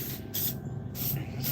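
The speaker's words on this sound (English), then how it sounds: "It's the sound of me spraying some antiperspirant." Antiperspirant spray can hissing in a few short bursts close up, outdoors by a canoe in the morning, with no talking.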